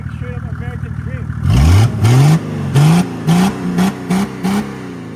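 A Mercedes OM603 diesel engine fitted with a big HY35 truck turbo idles roughly, then gives about seven loud, close, sharp revs in quick succession, each rising and dropping back.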